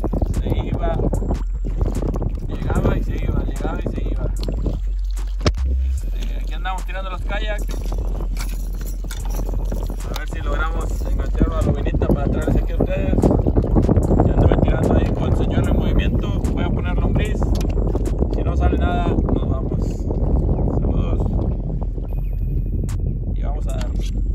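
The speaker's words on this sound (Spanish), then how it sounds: "Se vino el aguacero, viento." Heavy downpour and gusting wind buffet a small fishing boat out on the water during a bass fishing tournament in Padilla, Tamaulipas, a steady loud roar of rain and wind-noise with voices talking over it throughout.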